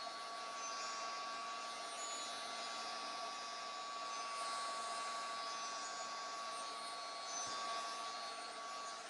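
A heat tool blows steadily while drying a freshly layered mixed media craft tag, giving an even, continuous whirring hiss that holds at the same level throughout with no breaks.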